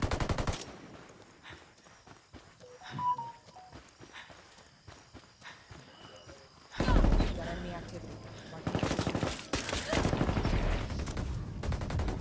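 Pistol gunfire in the video game Tom Clancy's Ghost Recon Wildlands, sharp shots crackling amid footsteps and game ambience, with louder bursts of firing clustered in the latter half; voices talk over parts of it.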